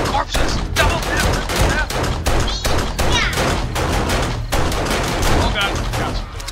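Sustained gunfire in the video game 7 Days to Die as players shoot zombie corpses during a horde night, dense rapid bursts running nearly the whole time with excited voices talking over the shots.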